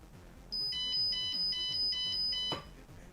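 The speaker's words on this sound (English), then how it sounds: "So straight away, this should go into alarm mode." Repeating electronic alarm beeps from a Pico microcontroller advent calendar project, a steady train of short high-pitched tones pulsing about every third of a second, loud and close, ending with a clunk.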